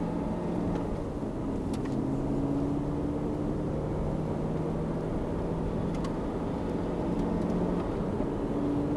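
An Aston Martin drives on the Thruxton race circuit in third gear, its steady engine drone holding close and loud throughout with a slowly shifting pitch and no talk over it.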